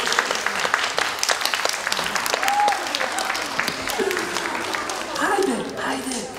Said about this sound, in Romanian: Lovește-ți palmele una de alta